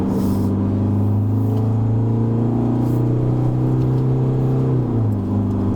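A 2021 Isuzu D-Max X-Terrain's engine drones steadily as it accelerates up a Genting mountain road, its pitch holding level before a gear change drops it near the end; the engine sound is loud and continuous throughout.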